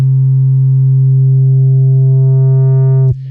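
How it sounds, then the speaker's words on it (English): A pure, loud, steady sine tone from the VCO2 oscillator of an Arturia MiniBrute 2S analog synthesizer holds for about three seconds, then cuts off abruptly. "I'm just going to listen to the sine wave output of VCO2 here"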